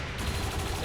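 Automatic turret fire in XCOM 2: War of the Chosen, a short, dense burst of gunshots that fills the moment with steady, loud crackling and no voices.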